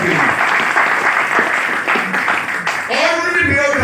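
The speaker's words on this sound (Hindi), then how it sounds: "जोरदार ताली होनी चाहिए इस महान प्लेटफॉर्म के लिए।" An audience claps loudly and steadily throughout a business event in a hall, with a voice cutting in near the end.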